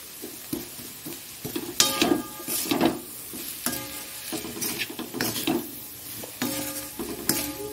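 Onion frying in a pan of hot oil, a steady sizzle broken by repeated scraping and stirring strokes of a spatula against the metal, close and busy throughout with no voices.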